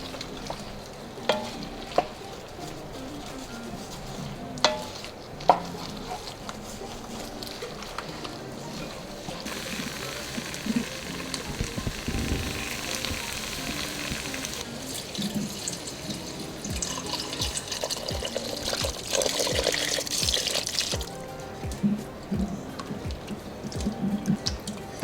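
Liquid pours and splashes into a hot pan of beef neck bones to deglaze it, running in a steady stream with a sizzle and stirring, building louder through the middle with no voices.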